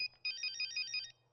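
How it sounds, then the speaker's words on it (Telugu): A mobile phone rings with a bright electronic ringtone, a short burst of repeated two-tone beeps, clear and fairly close, then stops. "ప్రియా నీ మొబైల్."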